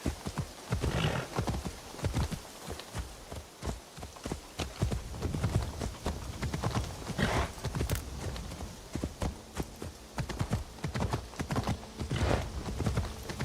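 A horse's hooves clip-clop in a steady walking rhythm in a video game, close and clear, with an occasional whinny among the footfalls and no talking.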